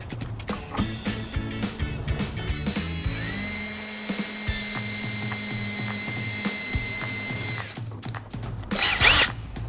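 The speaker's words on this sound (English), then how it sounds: "We're just going to put a couple of small holes in the bottom of the fascia." Power drill boring a couple of small holes in the bottom of a 2015 Ford Escape bumper fascia: a close, whining motor spin that rises in pitch and holds steady for several seconds, with short bursts before and after.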